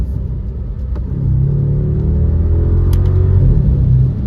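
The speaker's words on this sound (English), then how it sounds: "Here, I'll downshift a second." A BMW N63TU engine rumbles loud and close, its pitch climbing as the revs rise for a downshift, then holding steady.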